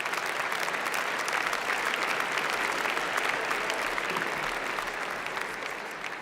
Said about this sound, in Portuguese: peço-vos uma grande salva de palmas para todos os colaboradores do partido aqui no continente